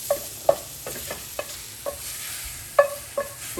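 Mushrooms sauté in a dry pan over high heat, a soft steady sizzle punctuated by about eight sharp scraping or tapping stirs of a utensil against the pan, close, with no talking.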